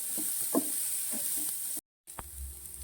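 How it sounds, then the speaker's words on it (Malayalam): Onions and curry leaves sauté in a pan for a Kerala-style dish. A quiet, steady sizzle runs under soft stirring and scraping taps, breaks off in a brief gap of silence, then resumes with a sharp clink. "അത് രണ്ടും കൂടെ അങ്ങ് ഇട്ട് നന്നായിട്ട് വാട്ടണം"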